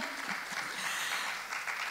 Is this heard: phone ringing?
no